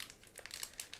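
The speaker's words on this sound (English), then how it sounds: "we'll cut through the plastic bag" Scissors snip through a plastic bag around a 1/35 scale tank model kit, producing quiet, close crinkling and a series of short sharp cuts in uneven rhythm.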